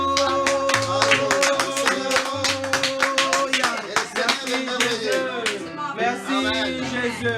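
Congregation clapping during a church service, steady rhythmic applause that keeps time along with singing and musical tones and carries through most of the clip.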